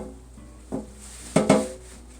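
Buttered 8x8 casserole dish set down on a kitchen counter, one light knock followed by a sharper double clatter of glass or ceramic, close and alone.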